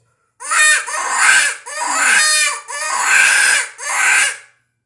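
A FoxPro hand-blown predator call wails in four long, loud, raspy cries like a distressed rabbit, each rising and falling, with brief gaps between.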